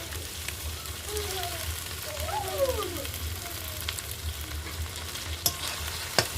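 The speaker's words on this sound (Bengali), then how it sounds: "এটা ভালো করে লাল লাল করে ভাজবো।" Tomato and ginger paste frying in a pan, a quiet, steady sizzle with soft stirring scrapes and a couple of sharp clinks toward the end. A few faint high chirps sound in the background.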